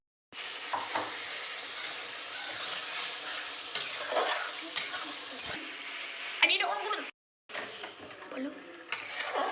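Potatoes with salt and spices sauté in oil for a thin rui fish curry, giving a continuous close sizzle with stirring scrapes and a short pause near the end, while a person talks over it.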